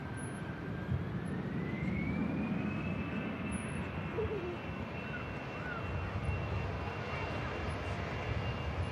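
An Airbus A220 jet airliner taxiing at Manchester Airport gives off a steady low engine rumble with a thin, rising whine. The sound is continuous and moderately loud across the whole stretch, and no one speaks.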